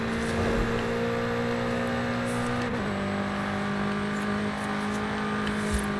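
A BMW M8 Competition Coupe in a video game pulling hard at full throttle from second gear, a steady engine drone rising in pitch, dipping at a shift, then climbing again.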